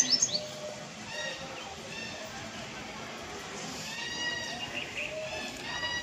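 Busy, overlapping bird calls and chirps from common mynas, fairly faint and distant, over a steady hiss of outdoor background noise.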